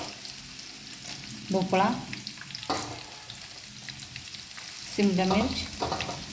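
Chopped vegetables, including pumpkin and capsicum, sizzle steadily in a hot pan for masala rice, with stirring scrapes throughout, while someone speaks.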